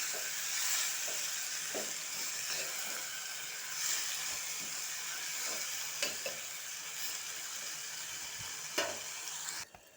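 Tomatoes fry in a curry pan with a steady close sizzle and hiss, and now and then a spoon or spatula scrapes and clinks against the pan as the mixture is stirred.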